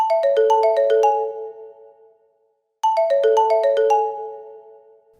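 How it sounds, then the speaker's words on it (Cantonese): A smartphone alarm ringtone plays a bright, rapid descending chime pattern twice, loud and close, with a short silent gap between the two rounds. "仲恐怖啊，就係手機鬧鐘啦。"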